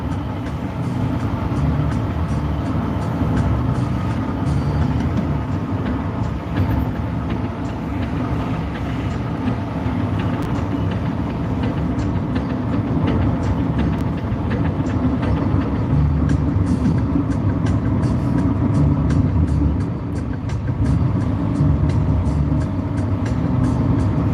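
A road traffic jam with a constant dense rumble of engines and vehicles that holds steady throughout, with no speech.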